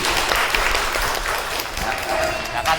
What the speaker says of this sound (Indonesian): beri kelompok tepuk tangan untuk kelompoknya Zaki.